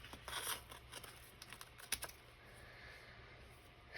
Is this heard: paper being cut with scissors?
yes